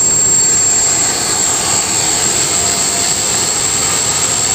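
An ArduCopter multicopter fitted with 12-inch propellers flies on a test flight, a loud, steady buzzing whine of motors and props that holds constant throughout.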